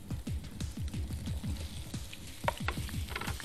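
Small boneless chicken pieces sizzle in hot refined oil with garlic, ginger and green chilli, a loud, close, continuous frying crackle broken by quick rhythmic stirring strokes and no talk.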